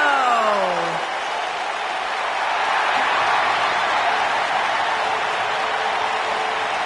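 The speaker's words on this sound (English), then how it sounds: "Get on your feet and applaud over there, Suxton." Arena crowd cheering and applauding loudly for a wrestler's entrance at a championship event, a dense sustained roar of clapping and voices throughout, with a brief entrance-music tone fading in the first second.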